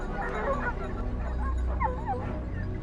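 A pack of hunting dogs on a wild boar hunt in hilly forest, with excited yips, whimpers and short barks overlapping continuously over a rough, noisy outdoor background.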